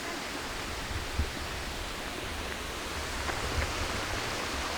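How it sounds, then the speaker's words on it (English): A waterfall in the Scottish countryside gives off a steady, broad rushing roar that stays even and continuous, with no voices over it. "Nice waterfall."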